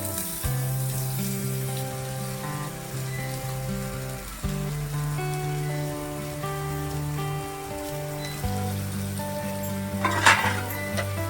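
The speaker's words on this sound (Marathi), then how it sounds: "कांदा टाकूया आता परतायला" Chopped onion sautéing in a pan for upma, with a steady soft sizzle and occasional stirring beneath strong sustained tonal sounds, likely background music, that run through the whole stretch.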